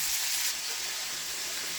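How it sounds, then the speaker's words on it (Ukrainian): A continuous bright hiss of pork ribs frying in a pan, loudest at first and then easing slightly, with no voices. "ребра смажимо, тим часом займаємося салатом"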